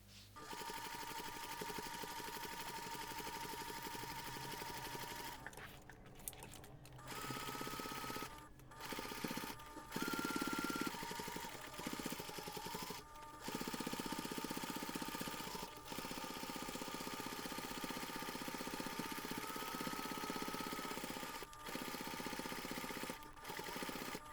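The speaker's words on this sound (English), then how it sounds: "Then we're going to take this to the machine and we're going to baste around all sides." A sewing machine bastes around all sides of a large fabric jewellery pouch, running steadily for long stretches with a few brief pauses and speed changes, close and clear with no talking.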